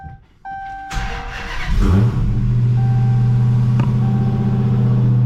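A Dodge Hellcat's engine cranks and fires up after a moment of quiet, with a sharp rev flaring before it settles into a loud, steady, deep-throated idle close by.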